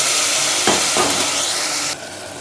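Onions frying with ginger garlic paste in a pan for a mixed vegetable curry make a loud, close, steady hiss, with a couple of quick stirring scrapes before the sizzle drops slightly.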